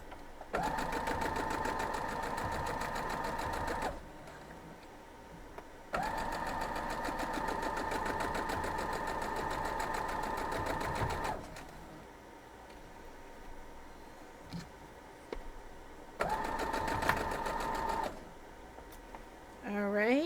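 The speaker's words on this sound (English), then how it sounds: "We're going to go sew this." A sewing machine stitches the seams of a quilt block in long steady runs of whirring, separated by short pauses, with a voice speaking now and then.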